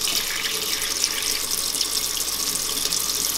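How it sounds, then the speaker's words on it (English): Tap water pours steadily over a glass Galileo thermometer, a close, continuous splashing hiss that holds an even level from start to finish with no voices. "I'm going to try to speed up the cooling down of it just by running water over it"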